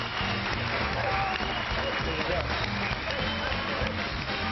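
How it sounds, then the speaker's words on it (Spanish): Studio audience applauds on a Spanish television comedy set, a loud, dense burst of clapping that fills the whole stretch, with cheering voices mixed in. "De momento, un aplauso para Mónica"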